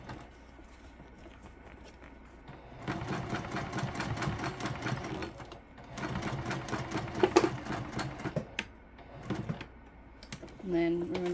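A sewing machine stitches a seam with a lengthened stitch in two steady, whirring runs of rapid needle clatter, separated by a brief pause and followed by a softer mechanical sound at the end.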